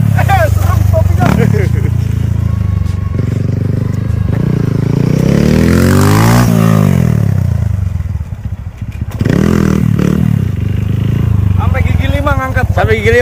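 A bored-up 200 cc fuel-injected Kawasaki KLX mini supermoto engine revs loud and close, climbing and falling through the gears with rough throttle blips, while people talk over it.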